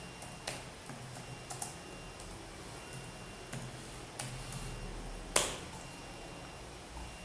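A command being typed on a computer keyboard while installing Python modules: sparse, faint key taps scattered over a few seconds, ending in one louder keystroke, with soft steady background hiss and no talking.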